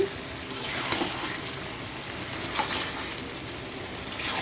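Goat meat sizzles and fries in a pan during slow-cooked spiced browning, a steady close hiss with occasional stirring scrapes and pops.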